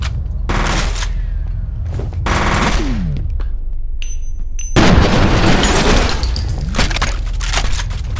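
Shotgun and machine-gun fire blasts in F.E.A.R., loud close bursts and rapid strings of shots with explosive booms and ringing tails, almost no talking.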